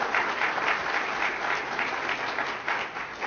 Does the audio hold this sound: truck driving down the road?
no